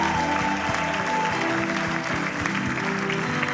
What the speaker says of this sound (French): Est-ce qu'on pourrait les applaudir?